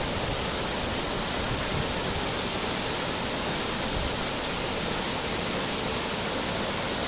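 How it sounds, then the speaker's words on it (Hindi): A waterfall near Dawki on the India–Bangladesh border, a steady, broad rushing roar of falling water, loud and unbroken with no voices. "ये झरना जो हमारे पीछे है, ये बहुत सुंदर झरना है"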